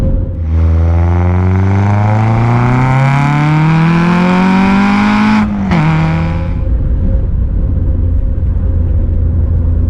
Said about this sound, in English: It sounds great as well with the exhaust